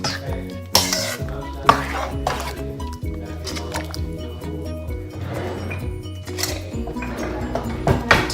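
Lao larb spinach is mixed in a bowl, with wet squishing, clinks of utensils against the bowl and dripping liquid close by. A few scattered louder knocks break up the steady mixing.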